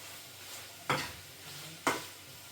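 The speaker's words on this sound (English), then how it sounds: "Stir the beef." Beef and green beans for leftover fried rice are stirred in a hot pan, with two distinct scraping strokes about a second apart over a quiet, steady sizzle.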